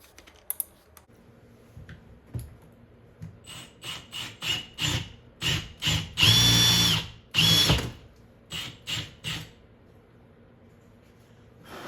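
A Milwaukee power drill bores a hole in a wall in a generator building, sounding as a series of about a dozen short, close whirring bursts with one longer, louder push in the middle.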